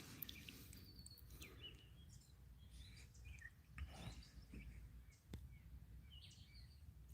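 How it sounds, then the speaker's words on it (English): Small birds sing and chirp by a lagoon, faint and somewhat distant, with scattered short calls and trills over a quiet outdoor background. "Hear the birds singing?"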